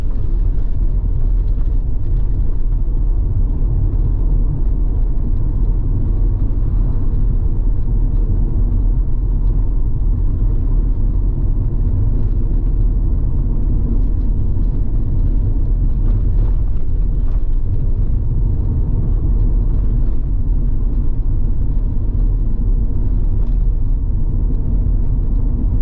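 Constant low rumble of a car driving through Balaclava, St. Elizabeth, Jamaica, a steady engine and road drone heard from inside with no voices.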